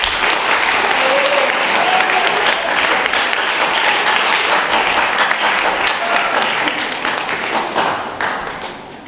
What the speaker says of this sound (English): let's give a nice round of applause for Officer